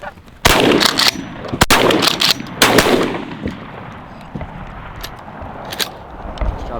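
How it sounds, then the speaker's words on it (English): Shotguns fire during a goose hunt, several loud sharp blasts in a quick cluster with echoing decay, followed by a few fainter distant shots and quieter outdoor background. "Good shooting, Tex."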